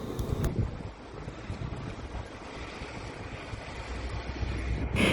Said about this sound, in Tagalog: Pero yung lakas ng hangin ay andyan pa rin.